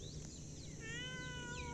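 A cat gives one soft, drawn-out meow with a wavering pitch, heard close but quiet against low background hum.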